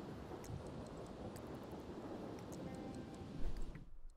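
A thunderstorm in the video game The Sims 3: Island Paradise, a faint, low rolling rumble over steady rain hiss that swells briefly before cutting off near the end.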